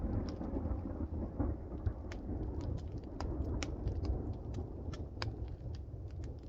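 Outdoors, a low continuous rumble of thunder rolls under steady rain, with scattered sharp drips and taps of raindrops close by.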